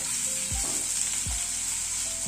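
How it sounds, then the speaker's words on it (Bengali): Chopped green chillies with ginger and garlic fry and get tossed in a pan, a constant bright sizzle with a few low thumps and scrapes as the pan is shaken, no voices. "সবগুলো দিয়ে একটু হালকা টস করে নেব।"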